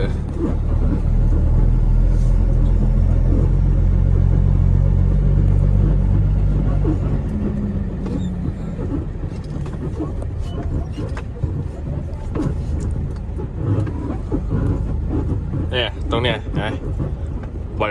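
Car engine rumbling steadily at low speed while reversing, loud and close, with people talking over it throughout.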